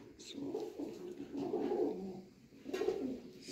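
Pigeons of the Ustad Mian Nazir bloodline, kept as rare pigeons, coo in soft, low, rolling phrases, with two or three close bursts and faint background noise.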